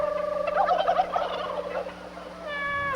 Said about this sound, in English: Who's making all them chicken sounds?